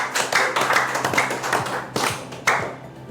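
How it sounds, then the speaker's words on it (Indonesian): A studio audience at a Jakarta sports talk show claps, a fairly small group of hands patting quickly and unevenly, swelling in short bursts before thinning out. "Mana tepuk tangannya?"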